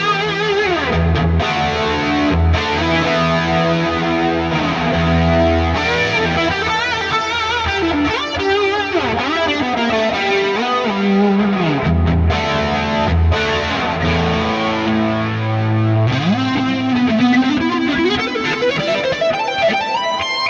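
An electric guitar played through the S-Gear amp plugin on a lead channel with a 4x12 cabinet, chorus, heavy delay and reverb; loud, sustained distorted lines and chords with shimmering, washing repeats, no talk.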